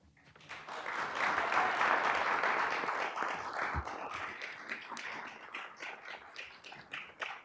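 An audience at a DC Council hearing on RFK Stadium breaks into applause, a swelling burst of clapping in a large room that peaks early and then thins out into scattered claps.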